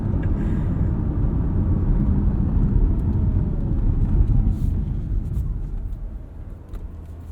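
A 2024 Chevrolet Corvette E-Ray with a 6.2-liter V8 drives on the road, its engine giving a steady, loud low rumble that holds evenly throughout and eases slightly toward the end.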